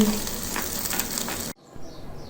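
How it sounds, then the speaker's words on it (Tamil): Hot tempering hits snake gourd kootu with a loud, steady sizzle and crackle for about a second and a half, then cuts off sharply to near quiet. "இப்போது இந்த தாளிப்பை புடலங்காய் கூட்டில் சேர்த்துடலாங்க"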